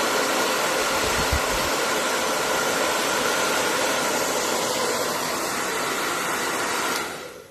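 A hair dryer blows steadily to dry paint on a stencilled frame, a loud, even whooshing hiss that runs unbroken until it switches off near the end.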